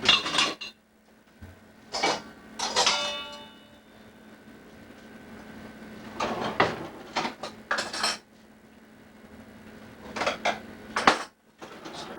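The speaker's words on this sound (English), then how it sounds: "Go ahead and put my spoon" Utensils and a spoon clatter among dishes and pans in a home kitchen while biscuits are being made, with several separate bursts of clinking spread through otherwise quiet moments.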